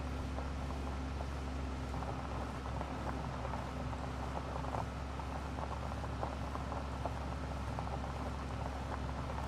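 Rain falls in a steady, even patter around a Kubota utility vehicle being driven at night, with a constant low engine hum underneath and no talk.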